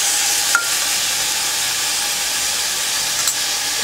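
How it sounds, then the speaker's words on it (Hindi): Chopped vegetables fry in oil in a pan for a broken-wheat khichdi, giving a loud, steady, close sizzle with a couple of faint clinks from stirring. "एक मिनट हम इसे फ्राई करेंगे।"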